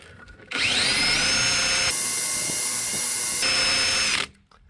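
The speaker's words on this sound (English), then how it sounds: "Drill out a 1/4 inch plug with the borehole bit." Close, loud drill run cutting a 1/4 inch plug from a decking board with a plug-cutting bit, one steady whine lasting about four seconds before spinning down.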